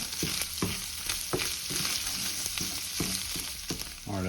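Sausage browning in a hot pan, a continuous close sizzle with periodic scraping taps of stirring, no voices.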